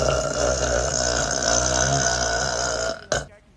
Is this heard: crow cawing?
no